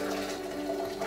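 Boiling water poured from a kettle into a Yeti cup, a brief steady splashing trickle of liquid heard close by and moderately quiet.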